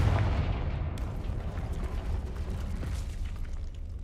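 A Confringo fire-spell blast goes off in Hogwarts Legacy, a loud booming explosion that swells and then rolls into a rumbling, crackling tail lasting several seconds.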